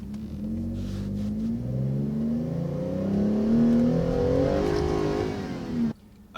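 A Ford F-150 in sport mode with advanced track sport traction setting accelerates hard, its engine droning and climbing steadily in pitch before a brief drop near the end, loud and sustained with no voices.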